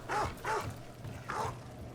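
A dog in the video game Dragon Age: The Veilguard gives three short, soft barks or yips close by, spaced about half a second apart, with no talking.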